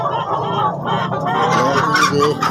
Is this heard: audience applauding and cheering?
no